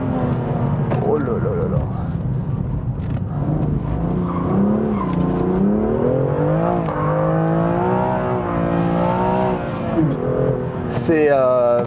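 A BMW M2 CS accelerating hard on a partly wet road, its engine rising and falling through gears with a loud, continuous sweep. Someone talks excitedly over it throughout.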